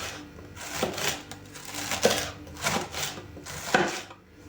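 A knife cuts cabbage into thin strips on a board, making soft, close, rhythmic chopping thuds with a brushing crunch at a steady pace, with no speech.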